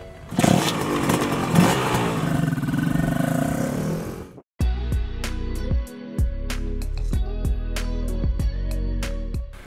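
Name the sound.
Honda NSR 150 SP two-stroke motorcycle riding on the road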